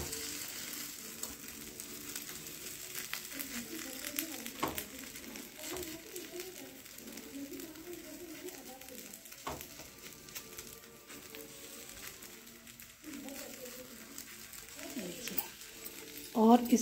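Flattened food sizzles in a pan on the stove with a steady, soft hiss and occasional clinks from the cookware.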